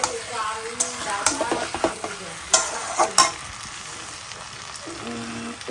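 Cauliflower and paneer curry sizzling as it is stirred and fried in a pan, a constant crackle punctuated by several crisp spatula scrapes and knocks, with a faint voice briefly heard.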